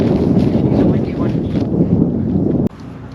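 Wind buffeting the microphone on an ebike ride to a river island campsite, rough low rumbling gusts that ease briefly then return before stopping suddenly.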